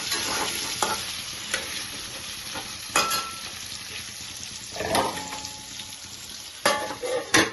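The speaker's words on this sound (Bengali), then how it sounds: "নুন হলুদ দিয়ে এখন ভাজবো" Taro stolons frying with salt and turmeric, a soft background sizzle with scattered clacks of a spoon stirring against the pan at irregular intervals, close and fairly quiet.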